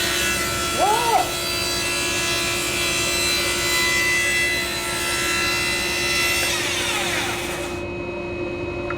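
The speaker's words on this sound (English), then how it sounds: "you can't cut wet stuff" A SawStop table saw rips through damp, wet wood, a steady loud whirring and grinding that runs for several seconds before the blade spins down near the end, with a brief voice early on.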